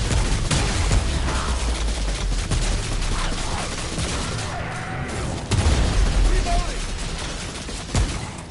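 Automated turret fire in Remnant: From the Ashes, a dense, continuous barrage of rapid shots and booms in a swamp battle, loud and sustained throughout.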